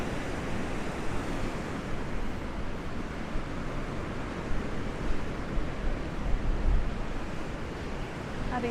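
Steady broadband wash of surf rolling onto a shore, continuous and fairly loud, with gusty wind noise and no clear breaks between waves.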